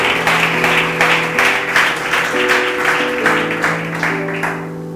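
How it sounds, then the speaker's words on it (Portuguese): Church congregation clapping together in steady rhythmic applause over sustained music, loud and continuous throughout. "Damos mais uma forte salva de palmas para Jesus."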